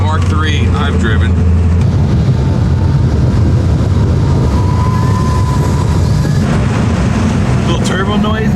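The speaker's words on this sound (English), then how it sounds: "Little turbo noises." Turbocharged Volkswagen Mk3 A59 museum car being driven, a loud steady engine and road roar with faint whistling turbo tones rising and falling, people talking over it.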